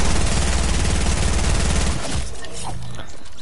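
Rapid automatic gunfire in a shooter video game fires in a loud, dense burst for about two seconds, then drops to quieter, scattered sounds.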